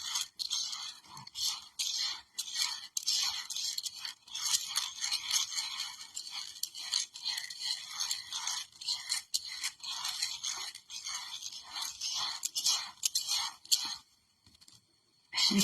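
Bare hands mixing rice, a soft, repetitive scraping and rustling of grains in quick, uneven strokes, close and fairly quiet, stopping briefly near the end.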